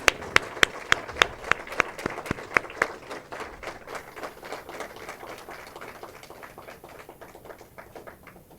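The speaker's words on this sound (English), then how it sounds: "Can we have a bigger round of applause, please?" Applause at a formal ceremony, opening with loud distinct claps in a quick rhythm that blend into a sustained patter of many hands and fade slightly toward the end.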